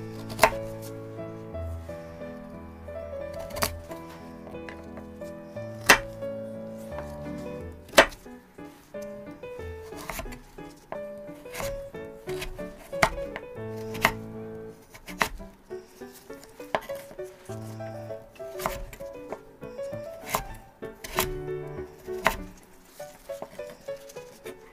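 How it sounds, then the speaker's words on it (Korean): Knife julienning burdock root cut into roughly 6 cm lengths and sliced thin on a board: irregular sharp taps, some quick runs and some single louder strikes, over soft tonal background music. "우엉을 6cm 정도 길이로 토막을 내고 편을 썰어서 채 썰어 주세요."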